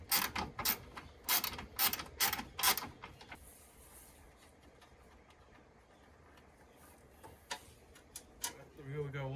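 A ratchet clicks in quick bursts while removing a bolt from a Ford F-150 radiator, several close, loud rapid ratcheting runs at the start and again near the end, with someone talking between them.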